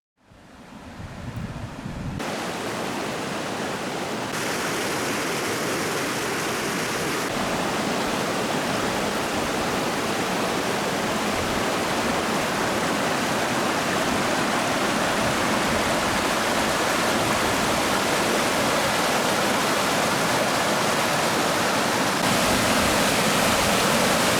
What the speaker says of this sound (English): We heard a waterfall and took a detour to check it out.